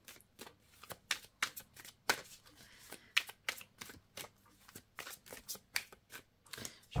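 A deck of tarot cards being shuffled by hand, a steady run of crisp riffling snaps and soft slaps repeating through the whole stretch, close and fairly loud with no talking.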